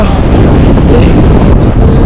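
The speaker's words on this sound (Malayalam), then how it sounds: "നല്ല കാറ്റുണ്ട് കേട്ടോ." Strong mountain wind on the trek to Everest Base Camp buffets the microphone with a constant, loud roaring rumble that never lets up.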